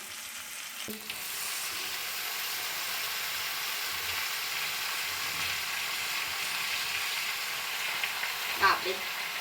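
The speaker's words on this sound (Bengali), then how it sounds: "এবার কেটে রাখা শাকগুলো আমি এর সাথে মিশিয়ে দেবো" Chopped spinach stirred into vegetables frying in a pan, a steady soft sizzle with occasional scraping clinks of a spatula, continuous and moderately quiet.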